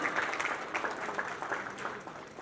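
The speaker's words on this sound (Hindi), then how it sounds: "सभी के लिए एक बार जोरदार तालियां हो जाए" Applause from the audience at a GCL launch event, cheering on a group of celebrities and influencers: a thick, even wash of many hands clapping, moderately distant and without clear speech.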